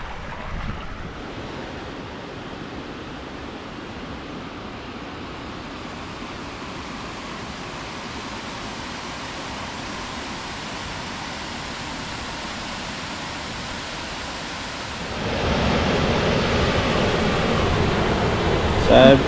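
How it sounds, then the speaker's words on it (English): Waterfall at Bell Gorge on the Gibb River Road: a steady broadband roar of falling water, loud and continuous, swelling a little louder near the end. "that's the last gorge waterfall for the Gibb River road"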